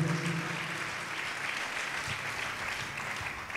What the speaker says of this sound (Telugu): చప్పట్లు కొట్టి దేవుని మహిమపరుద్దాం గట్టిగా